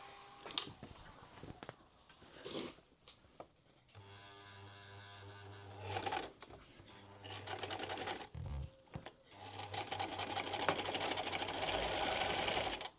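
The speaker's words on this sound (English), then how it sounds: "I can use this and just do a little test run. Just check we're stitching all right." A sewing machine runs a short test stitch on scrap fabric for a van bed box cushion, whirring in several steady bursts with brief pauses between, loud and close, with no talk over it.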